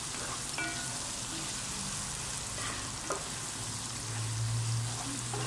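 Shallots, garlic, ginger and spices frying in a pan for spicy fried spaghetti, a steady close sizzle with occasional scraping and stirring knocks of a utensil, no talking.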